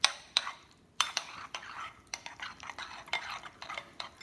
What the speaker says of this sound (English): And I mix it together.